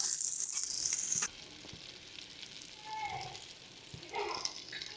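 Spices for an eggplant and poppy-seed dish, with turmeric and salt added, sizzle and fry in a pan, a steady close crackle with stirring scrapes and brief louder bursts.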